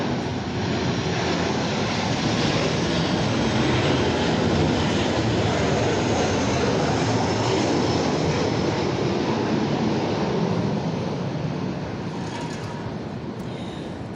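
An airplane passes overhead, its loud, steady broadband roar filling the whole stretch and easing slightly toward the end, with no one talking.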